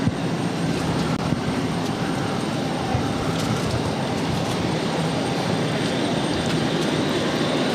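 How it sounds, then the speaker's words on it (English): An airliner takes off at Boston Logan Airport, a sustained broad jet roar that holds steady and loud throughout, with no talk over it. "Look at that takeoff."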